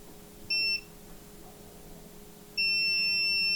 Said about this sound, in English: we can simply do a continuity check. Beep mode.